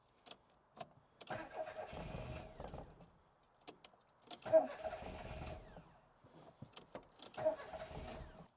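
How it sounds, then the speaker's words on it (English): A Classic Mini engine with an automatic gearbox and timing set 180 degrees out cranks repeatedly without firing, three grinding starter bursts separated by pauses, with faint clicks between them. "We are so close to getting this engine fired."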